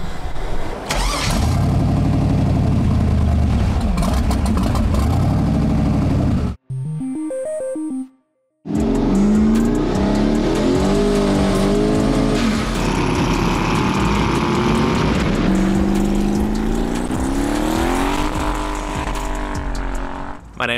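A 1983 Volvo 240 with a 5.3 LS V8 from a Silverado cranks and catches, then idles and revs hard in loud, close bursts with a short quiet break, people talking intermittently.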